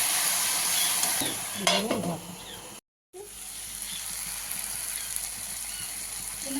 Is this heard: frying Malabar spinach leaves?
yes